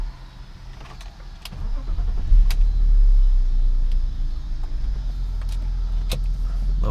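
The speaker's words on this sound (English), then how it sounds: "So let's give it a start, see how smooth it is." A low-mileage BMW E39 sport sedan with a manual gearbox cranks and its engine catches, settling into a steady low, smooth idle close by, with a few faint clicks and no talking.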